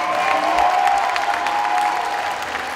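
Spectators at a women's football cup final applaud a substituted player leaving the pitch, a loud, steady crowd clapping with a sustained tonal hum running beneath it.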